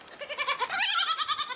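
Goats bleat repeatedly on a windy farm, several overlapping wavering cries at close range in quick succession, clear and fairly loud with no talking.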